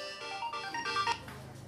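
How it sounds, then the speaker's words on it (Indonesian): A mobile phone ringtone plays as a quiet melodic sequence of electronic notes near a motorcycle whose engine has been switched off, with a low hum underneath. "Handphone bunyi."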